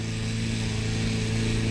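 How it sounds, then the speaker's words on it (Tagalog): Grass cutter running on a farm, a steady engine drone with a strong low hum that stays loud and even throughout, no talking. "simula na po uli sila mag grass cutter"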